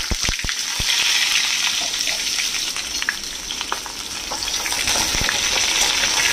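Pointed gourds, slit crosswise, frying in hot oil in a pan give a steady, loud close sizzle throughout, with a few sharp crackles and spatters near the start and occasional stirring clicks.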